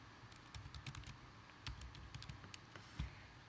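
Someone types on a computer keyboard, entering a web address in a quick, uneven burst of soft clicking keystrokes, close and fairly quiet.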